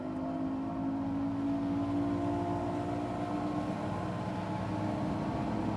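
A bass boat's outboard motor drones steadily at throttle with the motor trimmed all the way down, a constant low hum with sustained tonal whine and no talking.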